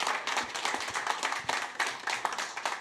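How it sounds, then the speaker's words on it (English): Applause from a small seated audience at a federal government announcement of a PSW tax credit, a few seconds of brisk, uneven hand clapping at moderate distance with no talk over it. "A round of applause again for the announcement."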